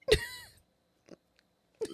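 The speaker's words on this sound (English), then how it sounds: "I'm coughing" A single sharp cough bursts out up close, followed by a brief quiet, a faint short sound, and the start of another cough-like burst at the end.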